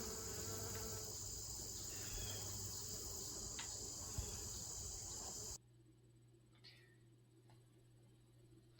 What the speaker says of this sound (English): it's full of bees today in full bloom